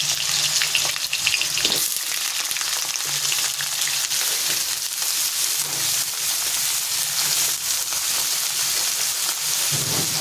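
Potatoes dropped into a hot pan with oil and whole dried red chillies fry in a loud, dense, continuous sizzle that stays even throughout, with no talking.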